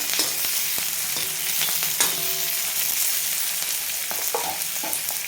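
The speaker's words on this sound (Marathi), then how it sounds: "एक टोमॅटो टाकायचा आहे त्याला आपण छान आपल्याला थोडंसं शेकून घ्यायचं" Tomato sautés in a hot pan for dhaba-style paneer tikka masala, giving a loud, steady sizzle and crackle throughout, with light stirring clicks close by and no one talking.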